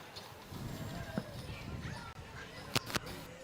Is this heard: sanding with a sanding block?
no